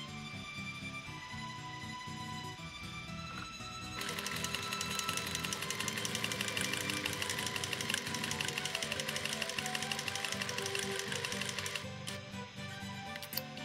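Sewing machine stitching the seams of a detachable collar, two front collar pieces placed face to face with overlapping snaps; a quiet start gives way to a steady, fast mechanical rattle running continuously until near the end.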